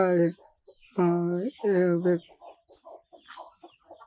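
Free-range country chickens on a farm cluck in a few loud, close, voiced bursts, followed by softer scattered clucks and murmurs trailing off.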